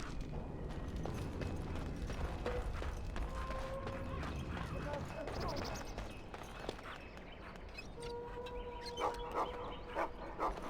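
A dog in the video game Dragon Age: Origins barks and whimpers through a busy game soundscape, with short yips and whines rising above a dense rumbling background of ambient noise and hoofbeat-like clatter.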